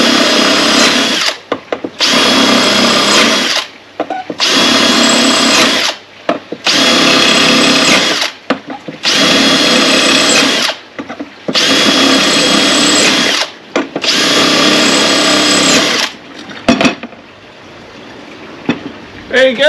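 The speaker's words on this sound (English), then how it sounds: "you can drill your ceramic tiles with them" A power drill runs in six or seven long loud bursts with short pauses between, grinding steadily through hard ceramic tile, then stops near the end.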